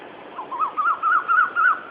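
A repeated warbling bird call, five or six wavering notes in a steady rhythm, fairly clear and close against a quiet background.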